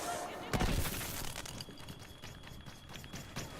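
DT-29 blaster pistol shots in a Star Wars video game, fired as a quick burst of loud cracking blasts followed by scattered lighter shots and battle noise, with someone talking over them.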